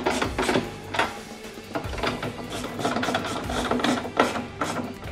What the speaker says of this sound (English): So let's do up these nuts first that hold the bracket, and then we'll do up our other ones then.